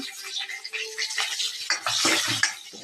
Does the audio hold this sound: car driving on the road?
no